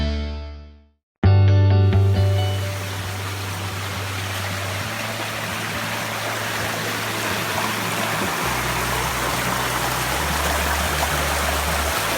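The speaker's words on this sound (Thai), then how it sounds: "ตรงนี้ครับ เป็นแม่น้ำเล็กๆสวยมาก" A small river stream in the hills of Khao Samorpoon rushes steadily after a brief silent gap at the start, making a loud, continuous broadband flow with a low hum underneath and no voices.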